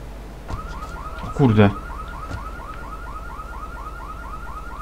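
Car alarm going off in the video game GTA III, a repeating warbling electronic tone cycling steadily throughout, with a brief louder burst and a short spoken exclamation early on.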